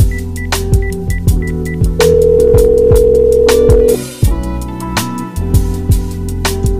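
Electronic telephone dial tone sounds inside a hip-hop song, a steady held beep sitting over the beat and melodic notes, loud and prominent in the mix.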